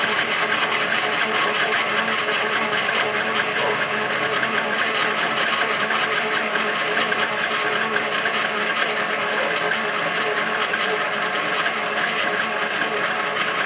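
Continuous loud whirring drone from a pasta machine mixing durum flour and egg dough, steady and unbroken throughout with a buzzing mechanical texture.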